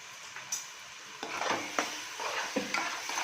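Ground masala paste sautés in a pan, a soft low sizzle under repeated scraping stirs from a spatula, several distinct strokes close by.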